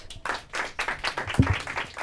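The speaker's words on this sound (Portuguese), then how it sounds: "Palmas para eles." Brief, modest audience applause at a Portuguese-language quiz show after a correct answer, scattered claps building over about two seconds with a voice briefly heard over them.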